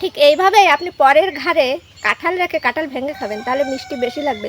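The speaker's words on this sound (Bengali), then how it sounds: "মুরগির ডাক থাকবে ভিডিওতে" A rooster crows in loud, arching calls mixed in with close, steady talking.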